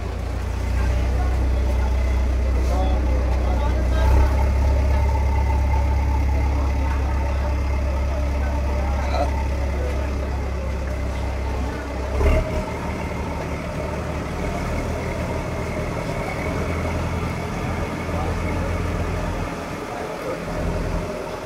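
A passenger launch boat engine runs steadily after leaving a ferry ghat, a loud, constant low droning throb that lasts throughout with faint background activity.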